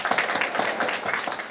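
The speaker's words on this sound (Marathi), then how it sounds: "श्रोत्यांसाठी टाळ्या वाजवा." Audience at a temple gathering clapping together, a brief dense burst of applause, steady and close.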